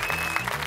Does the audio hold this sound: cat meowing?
no